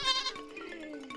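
Goats bleating in a Kenyan village, a herd of about thirty kept for milk; a short, wavering, nasal bleat rings out loudly at first and fades as a second, softer call overlaps, close by with no talking.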